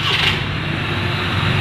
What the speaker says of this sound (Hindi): जी अब गाड़ी को स्टार्ट करवा रहे हैं जी,